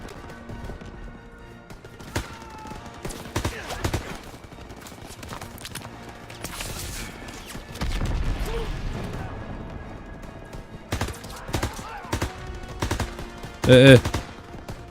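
Gunfire in the World War II shooter Call of Duty: WWII, with bursts of automatic fire and sharp shots scattered across the scene among other game noise, and a louder cluster of shots near the end.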